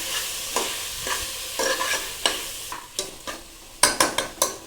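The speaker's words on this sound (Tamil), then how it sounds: "பாருங்கள், கேரட்டு, உருளைக்கிழங்கு இதெல்லாம் போட்டு ஒன்றா மிக்ஸ் பண்ணிக்கலாம்." Carrots and potatoes are stirred together in a pan, with a series of quick, close scraping strokes over a light sizzle and an irregular rhythm that grows busier toward the end.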